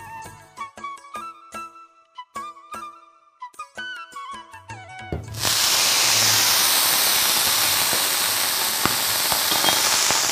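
Music plays before coconut dosa batter meets a hot oiled pan with a sudden loud hiss. The sizzle then holds steady and close until the end.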